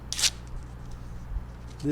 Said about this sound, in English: paper is now torn in two